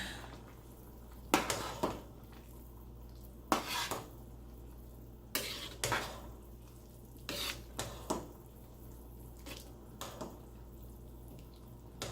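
A spoon stirring vegetable soup in a pot knocks and clinks against the metal in scattered sharp taps over a quiet, faint kitchen background.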